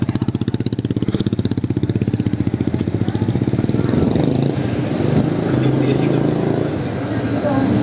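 A motorcycle engine runs while the bike is wheeled back into a parking spot, starting as a rapid, even close putter that turns rougher and more irregular, with voices partly heard over it.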